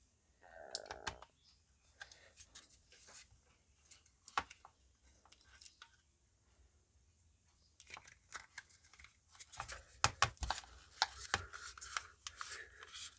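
The lid of a DJI Osmo Mobile 2 smartphone gimbal is fitted back on after a battery change. Quiet plastic clicks, rubs and small snaps come close up, sparse at first and then busier near the end.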